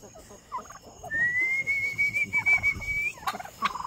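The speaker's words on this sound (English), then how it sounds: "come here, guys!" A turkey gobbles on a homestead, a loud warbling gobble with a long whistle-like tone and short calls, close by, with faint background noise and no talking.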